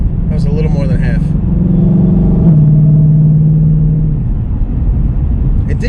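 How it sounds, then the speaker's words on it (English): A 2021 Shelby Mustang GT500 with sport exhaust accelerates hard from inside the cabin, its loud engine roar climbing steadily in pitch and then holding at a high drone, with a voice briefly speaking at the start. "See, that's just a sport exhaust."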